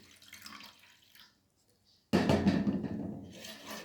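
Water is poured from a container into a homemade air freshener mixture, first a light trickle, then after a short pause a louder, fuller splashing pour up close.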